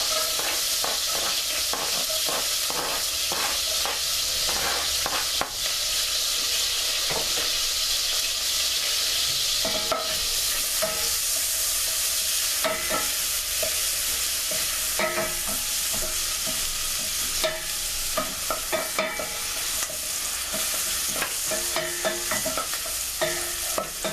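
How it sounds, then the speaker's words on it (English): Onions frying in melted butter in a pan, a steady close sizzle with intermittent stirring scrapes and clinks throughout, no voices. "we're going to add our onions."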